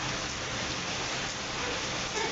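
Steady rain falling outdoors during the monsoon season while a car is being wiped clean, a dense continuous hiss filling the whole stretch at an even level, with no voices.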